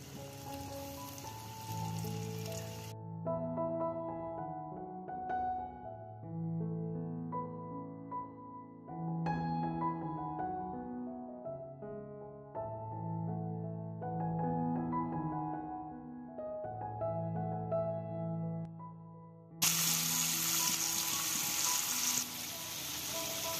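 Chicken pieces deep-frying in hot oil for crispy chicken pakoda, a loud dense sizzle heard briefly at the start and again at the end, with a stretch of music filling the middle.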